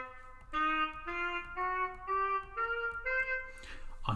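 A blues scale played note by note on a melodic instrument, a steady series of about seven sustained pitches rising in even steps, clear and alone with no talking.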